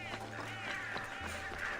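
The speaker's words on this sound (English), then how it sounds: "Oh, it's just birds." Bird calls in the video game Assassin's Creed Odyssey, quacking and honking fowl-like cries that recur under a busy ambient game soundscape with faint voices in the background.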